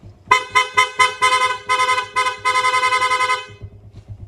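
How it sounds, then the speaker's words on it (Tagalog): Stock horn on a Kawasaki Barako motorcycle honks loudly in a run of about nine close, rapid blasts, starting with short beeps and ending in longer held toots, with no talk over it. "Loud horn."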